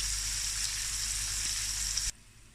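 Two onions sizzle and fry steadily in a pan, a loud, dense crackle that runs continuously and then cuts off abruptly near the end.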